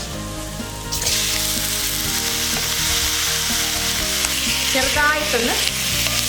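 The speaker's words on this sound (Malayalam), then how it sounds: "ഈ ചിക്കൻ്റെ പച്ച ചുവ മാറുന്നത് വരെ വഴറ്റാം" Large bone-in chicken pieces dropped into hot oil and sautéed for a Thai-style dish, a loud, steady sizzle that flares up as they land, with intermittent spatula scrapes and clanks against the pan and a brief spoken word.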